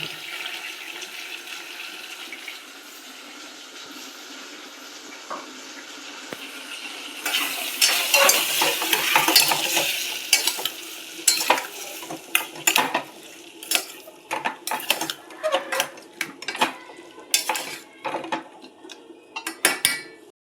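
Pumpkin frying in a pan as onion paste is stirred in, heard first as a low steady hiss and then as a run of sharp scraping and clanking strokes from a spoon against the pan, close and fairly loud.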